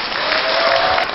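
An audience claps at a company year-end party, a brief dense burst of applause, loud and steady throughout.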